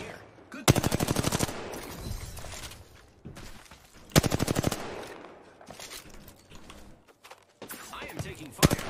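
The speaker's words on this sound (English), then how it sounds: "I am taking fire." Rapid automatic gunfire bursts in a shooter video game, loud and close, several rattling volleys separated by brief pauses, with shorter scattered shots and game sounds in between; a voice speaks now and then.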